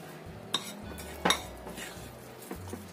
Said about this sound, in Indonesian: Kita aduk lagi sampai tercampur.